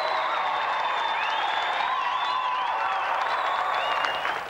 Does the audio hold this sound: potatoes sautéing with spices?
no